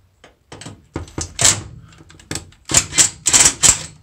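A torque driver with a square pocket-hole bit loosens screws on a shattered three-panel RV shower door: sharp irregular clicks, clacks and thunks from metal and glass fittings, loud and close, with no talking.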